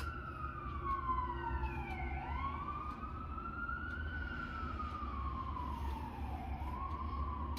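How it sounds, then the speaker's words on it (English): Several fire truck sirens wail through a city, their rising and falling tones overlapping and sweeping continuously, loud and nearby with no talking. "it sounds like fire trucks"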